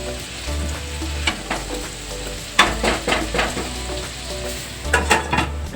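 Potatoes for methi aloo fry in a pan with a steady sizzle, broken by a few clattering scrapes and knocks as a spoon stirs them, close and alone.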